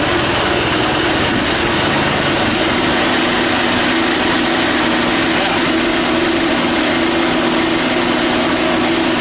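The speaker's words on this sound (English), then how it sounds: "right now the engine is on. When I give gas, the train turns because I have one wheel is lifted out there" A rat rod hot rod engine runs steadily with one wheel lifted off the ground, giving a loud, continuous droning hum with no clear breaks throughout.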